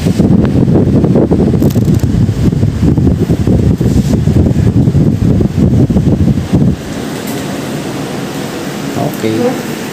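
A newly installed split-type aircon unit in San Pedro, Laguna blows a steady, loud rush of air with a broadband hiss that stays constant throughout, dropping slightly in level partway through; people talk over it.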